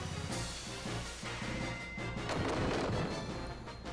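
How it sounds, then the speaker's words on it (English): A Holy spell exploding in the Final Fantasy Tactics video game: a loud, dense crashing burst that swells in the middle and rings out over steady game music. "A Holy Explosion."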